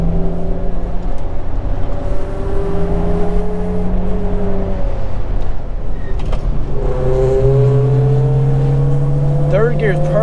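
A car driven fast in third gear on a winding mountain road, engine droning loudly and steadily with pitch rising and falling as it pulls through bends, close up from inside, with occasional voices.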